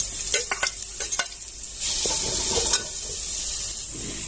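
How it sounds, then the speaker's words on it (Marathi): Coconut frying in ghee, a steady hiss with bursts of stirring and scraping clatter near the start, continuing without speech. "तूप गरम झालेलं आहे आपण त्याच्यामध्ये नारळ ओला नारळ घालून घ्यायचं आहे छान असं परतून घ्यायचं"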